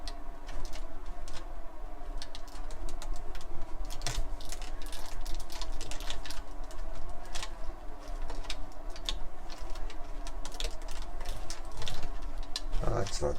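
Faulty switch on a Becker car radio clicking and ticking in quick irregular bursts as it is jiggled, close and fairly steady throughout, with a faint hum underneath.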